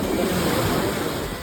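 Sea waves crash and roar steadily on the shore, a loud continuous wash of surf mixed with wind noise on the microphone, with no voices heard.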